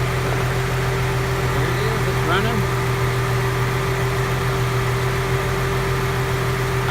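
A 2011-14 Mustang with the Cyclone V6, its intake baffle removed, idles as a steady low hum with a droning tone, close and continuous under faint background noise.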